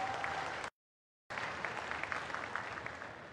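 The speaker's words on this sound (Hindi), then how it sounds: "जोरदार ताली बजाएं," Crowd at a rally in Jhabua, Madhya Pradesh, applauding to welcome the Prime Minister, a dense steady burst of clapping broken by a short gap of silence, then continuing just as strongly.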